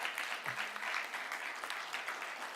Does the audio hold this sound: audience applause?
yes